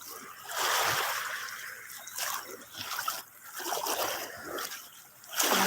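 Surf waves wash up on a Boracay Island beach, a hissing, splashing swell that rises and falls in soft surges. The waves sound fairly close and moderately quiet, with no voices.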